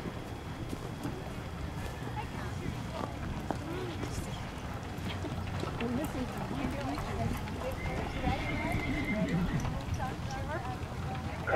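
A horse trots steadily while pulling a carriage at a carriage driving show, the rhythmic hoofbeats continuous beneath a voice speaking over them.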